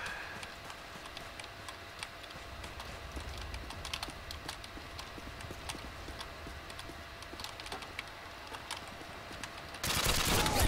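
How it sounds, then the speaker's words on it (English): Quick footsteps patter in Call of Duty Modern Warfare 2 multiplayer, a fast, light stream of taps under faint game ambience, ending in a burst of louder noise. "heard the footsteps there."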